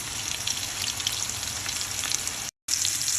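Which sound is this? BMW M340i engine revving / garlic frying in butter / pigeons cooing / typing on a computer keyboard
garlic frying in butter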